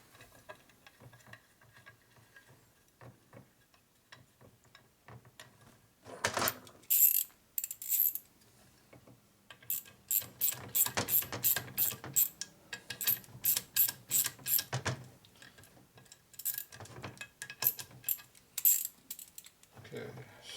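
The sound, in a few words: ratchet tightening screws on Harley transmission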